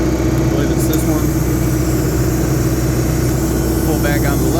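A Toro Groundmaster 580D mower's diesel engine runs steadily and loud up close, a constant rumbling drone throughout, with someone talking faintly over it.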